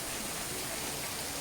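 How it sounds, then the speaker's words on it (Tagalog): Heavy rain falls steadily on a Saturday night in the Philippines, a dense, even hiss that fills the whole moment without pause. "Ang lakas na naman ang ulan."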